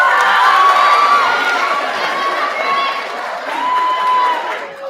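An audience at an eighth-grade promotion ceremony cheers, whoops and shouts during the graduates' name call, a loud, continuous wash of crowd noise lasting the whole stretch with a few higher yells standing out.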